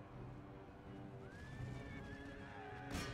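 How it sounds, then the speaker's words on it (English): Horses neighing amid a cavalry clash in the strategy game Empire Total War, with a clear whinny rising over the steady rumble of battle and a sharp impact near the end. "Cavalry engaging the light horse."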